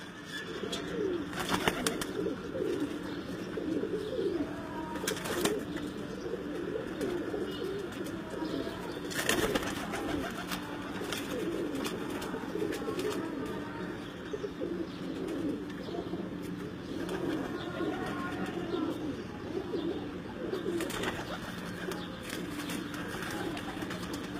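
Lal Pari breed pigeons coo in low, repeated, throaty calls, moderately near, with occasional chirps and a few sharp knocks or wing flaps scattered through.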